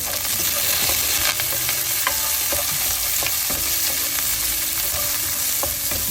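Rampe, garlic, shallots, curry leaves and green chillies sauté in hot oil in a pan for tin fish curry, a continuous close sizzle broken by clinks and scrapes of a stirring spoon, with no voices.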